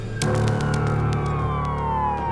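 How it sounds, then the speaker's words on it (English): A loud siren wails at a NASCAR crash scene with a steadily falling pitch, sounding sustained and close over a constant background rumble. "A siren's call."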